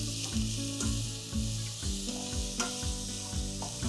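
Ginger garlic paste frying in oil with onions for a mutton dish, giving a loud, steady sizzle that runs throughout with no talking, while a music track plays alongside.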